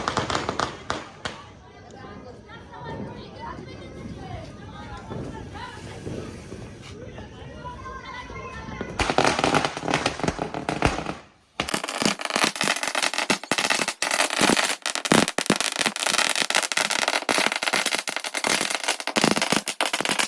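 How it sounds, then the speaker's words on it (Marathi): A long string of about five thousand firecrackers bursts in rapid, dense crackling pops, loud and close, following a stretch of people talking outdoors during Diwali. "तर आता लावणार आहे पाच हजार फटाक्यांची माळ"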